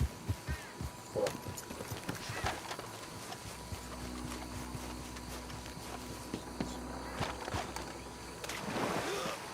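A horse's hooves clip-clop in Red Dead Redemption 2, scattered thuds near the start and end over quiet outdoor game ambience, with a steady low drone in the middle.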